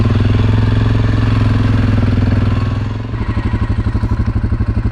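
ATV engine riding a dirt trail in Michigan's Upper Peninsula, a loud close steady drone that drops to a lower rhythmic chugging putter near the end, alone with no talk.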